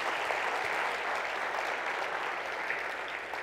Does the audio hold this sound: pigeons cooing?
no